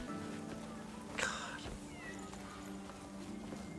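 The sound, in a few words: cat meowing in a video game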